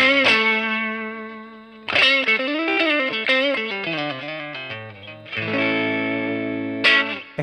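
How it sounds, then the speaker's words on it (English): Electric guitar through a Laney CUB Super12 15-watt valve combo amp with the guitar volume rolled back, playing bent, sustained notes and chords with light grit, close and clear with no talking. "This is a valve amp, so when it's cranked, it sounds great, but when you roll the volume back,"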